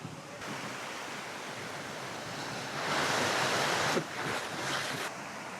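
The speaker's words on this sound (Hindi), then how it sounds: "झरने चल रहे हैं हल्का हल्का, ऐसे सीढ़ी नुमा झरने" Small stepped waterfalls in Thailand give a steady broadband rush of flowing water, with a louder surge in the middle and no voices.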